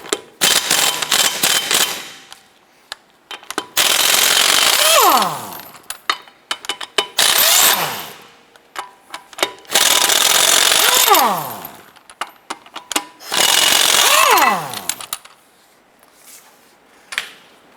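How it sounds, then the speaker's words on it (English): Impact gun with a 22mm socket removing lug nuts from the front wheel of a 2007-2012 Nissan Versa, loud rattling bursts of a few seconds each, four main runs separated by short pauses and clinks, with no talking. "you can use a 22mm socket with your impact gun"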